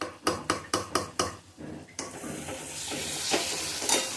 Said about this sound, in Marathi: त्याला चांगला हटवायचे.